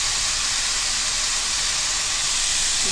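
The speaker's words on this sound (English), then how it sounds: "I'm going to add some rice noodles" Already-cooked thin rice noodles, finer than egg noodles, hit a hot stir-fry pan and give a loud, steady, unbroken hiss of sizzling, with no voices.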